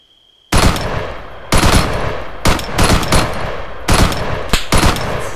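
Loud, close bursts of automatic gunfire in the video game Arma 3, several sustained volleys separated by short gaps, with no talking over them.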